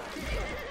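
A horse in the medieval combat game Chivalry 2 lets out a brief neigh, a short, rough whinny over noisy game ambience lasting under a second.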